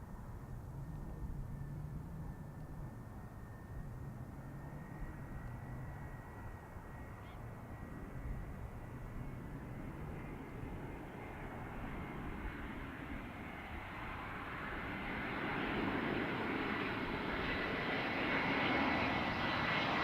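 Aircraft engines at Zurich Airport by runway 14 during morning traffic, a distant jet roar that slowly swells and grows louder toward the end, with faint bird calls in the background.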